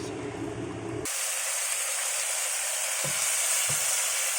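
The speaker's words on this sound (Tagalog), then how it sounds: "Ito, nagluluto ako ng pork fillet." Pork fillet frying in a pan for a stir-fry with capsicum, a loud, steady sizzle and hiss close up with a couple of brief knocks.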